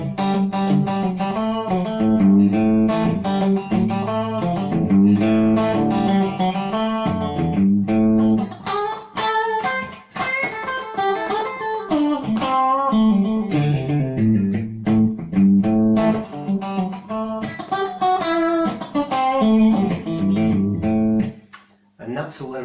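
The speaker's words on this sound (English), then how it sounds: "position 4, clean guitar, a little bit of reverb, palm mutes" Clean Fender Stratocaster electric guitar with light reverb plays a steady palm-muted groove, loud and close throughout, with chords and single notes and no talking, ending in a brief pause.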